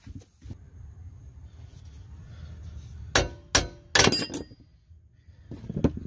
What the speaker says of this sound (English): Now I'm just gonna bang this a little bit with my hammer.